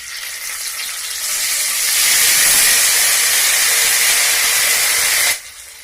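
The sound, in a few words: ginger and cumin paste sizzling in a pan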